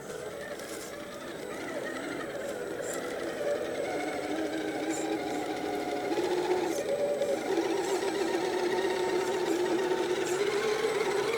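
Vanquish VRD Stance RC crawler car motor climbing a rocky slope, a close, buzzing electric whine that rises in pitch and strength as it works uphill, steady throughout.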